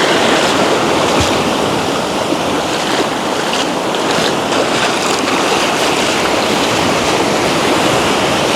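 Ocean surf washes steadily onto a beach during a morning walk, a continuous loud rushing wash of waves with no speech over it.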